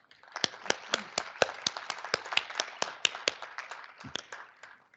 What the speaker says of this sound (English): So let's please give our volunteers a round of applause.